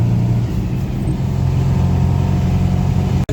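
A Moskvich 2140 car engine idles and revs steadily in a loud, continuous drone, with the rev level rising slightly before a sudden cut near the end; the car has an oil leak into the cabin.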